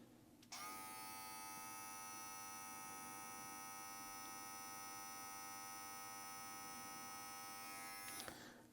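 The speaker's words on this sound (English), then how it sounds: "JRL Ghost on the low speed." A JRL Ghost cordless hair clipper runs on its low speed with a faint, steady, high-pitched electric whine and hum that switches on, holds for about eight seconds, then stops.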